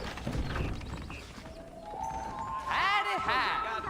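Horse hooves clip-clopping in Red Dead Redemption on PC, a steady rhythmic trot mixed under game sounds and someone talking, with a brief whinny-like tone near the end.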